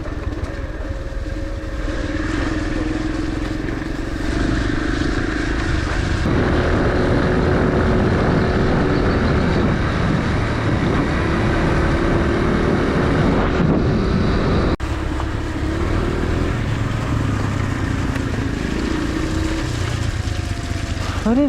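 A mud-covered motorcycle engine runs steadily and loudly for the whole stretch, droning with slight shifts in pitch and no voices.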